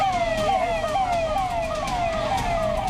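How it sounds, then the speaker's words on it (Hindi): An ambulance siren wails in a steady rising-and-falling cycle, loud and continuous over the rumble of a crowd at a stampede during the Mahakumbh gathering. "एम्बुलेंस बुलानी पड़ गई।"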